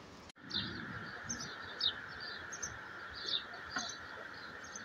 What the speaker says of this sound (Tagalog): Ang sarap sa tenga ng huni ng mga ibon.